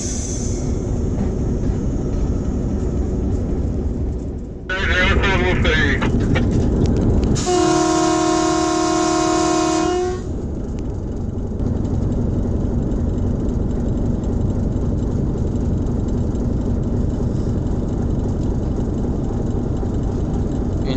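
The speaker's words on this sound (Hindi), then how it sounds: "इंचार्ज गार्ड से सिग्नल एक्सचेंज करने के बाद ट्रेन अब बसाल शरीफ से बसाल जंक्शन के लिए रवाना हो रही है।" The Kohat Express, hauled by a Hitachi locomotive, pulls out of Basal Sharif station. A loud, steady engine drone and rail rumble continue throughout, broken by a sustained multi-tone horn blast near the middle.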